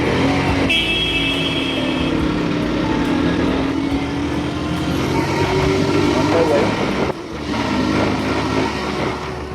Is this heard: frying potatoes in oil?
no